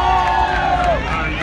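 Dense crowd noise and cheering fill a Chicago steppin' dance event in Bellwood, a loud continuous roar of many voices with a sustained whoop rising above it.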